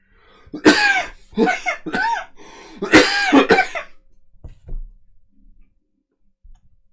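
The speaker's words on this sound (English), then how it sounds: "This cough is not good." A series of harsh, close coughs in quick bursts, followed by quieter throat-clearing and faint ticks trailing off into near silence.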